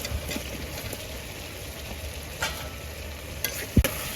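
Boiled potatoes tossed into frying masala for a fish curry and stirred, a steady sizzle with soft scrapes and a sharp spoon knock near the end.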